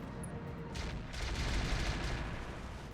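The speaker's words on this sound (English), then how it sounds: "that artillery doing some reasonable damage" Artillery fire in the RogueTech video game sounds as a dense, continuous rumble of distant booms and blasts, swelling slightly in the middle and staying fairly faint, with no voices over it.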